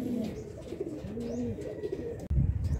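A racing pigeon arriving at a club loft during training in Canlubang, Laguna, gives soft, close cooing calls in a few repeated phrases, with a brief muffled thump near the end.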